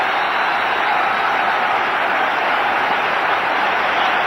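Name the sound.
cricket crowd applauding Azharuddin's innings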